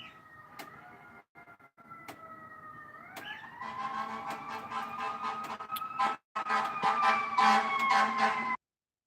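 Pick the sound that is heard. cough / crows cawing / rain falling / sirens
sirens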